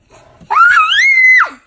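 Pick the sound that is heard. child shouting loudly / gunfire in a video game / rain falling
child shouting loudly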